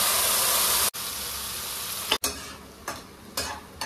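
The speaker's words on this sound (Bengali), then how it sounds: "তেলটা দেখো আমার গরম হয়ে গেছে, এখানে আমি আলুটা জাস্ট একটু নাড়িয়ে নেবো" Potatoes stirred and fried in hot oil with a spice mix, a loud continuous sizzle broken by brief stirring scrapes and bursts of crackle, close and with no talking.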